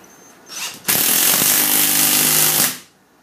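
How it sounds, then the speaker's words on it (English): Air impact wrench tightening bolts on an air cup suspension kit, giving a short initial buzz and then a loud, sustained rattling whir of nearly two seconds that stops abruptly, close up in a quiet workshop. "physically use air impact or your box wrench and Allen head or Allen key to reassemble, and just physically tighten back down"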